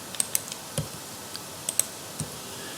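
Sparse, light mouse clicks while geometry software is used to delete midpoint line segments, a few isolated sharp ticks spaced irregularly in a quiet room.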